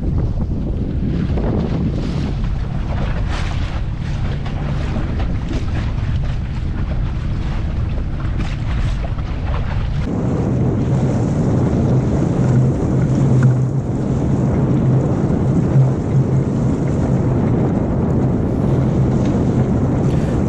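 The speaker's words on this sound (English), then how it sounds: "The wind has suddenly picked up here" Strong wind buffets the microphone in a constant roar, growing heavier partway through, with water sloshing against a small sailing dinghy underneath.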